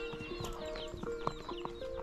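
Horse hooves clip-clop at a steady walking rhythm along a path in Cuba's Viñales Valley, several distinct close hoof strikes over a busy outdoor background with faint tonal hums.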